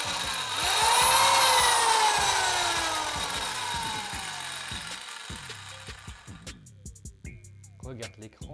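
A power saw running from a battery inverter power station whines loudly at first, its pitch sliding down as it winds off, then fades out while a person talks over scattered clicks.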